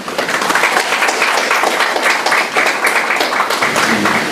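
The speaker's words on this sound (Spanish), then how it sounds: "vamos a recibir con un fuerte aplauso a nuestro invitado de hoy" A crowd applauds steadily, dense even clapping that holds at the same level for a few seconds.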